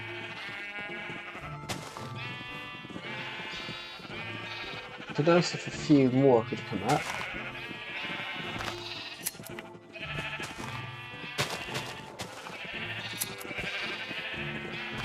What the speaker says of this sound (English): We've got sheep living up here.